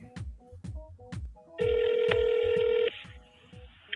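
An office telephone at a real estate brokerage rings in one long, steady electronic tone over a rhythmic low thumping beat, with no voices.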